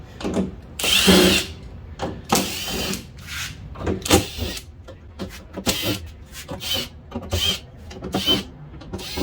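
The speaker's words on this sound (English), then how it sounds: "Next, we're going to go ahead and remove the 8 bolts here located on the tailgate itself." A power tool runs in repeated bursts, whirring and stopping as it backs out the eight bolts on a Nissan Frontier tailgate during a latch repair, close and loud, with short pauses between runs.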